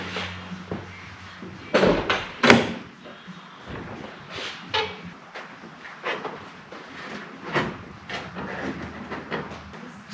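A few scraping and knocking sounds of an upholstered car door panel being slid over the door and fitted into place, with sharp thumps and rattles, close by, between quieter pauses.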